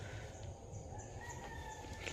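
A backyard rooster crows once in a drawn-out, rising call, fairly soft and somewhat distant, over quiet outdoor background noise with no talking.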